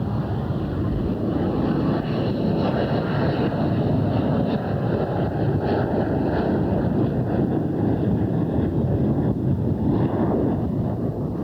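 A Harrier jump jet powered by a Rolls-Royce Pegasus engine roars in a dense, steady rush with a windy, turbulent texture, loud and unbroken from start to finish.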